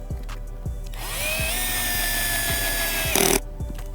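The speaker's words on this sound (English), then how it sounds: "find a good spot to mount the power supply and then screw it in with the wood screws" A power drill drives wood screws to mount a FarmBot Genesis v1.7 power supply, a loud close whine that climbs in pitch and holds for about two seconds before a brief harsh burst and stop, amid light knocking.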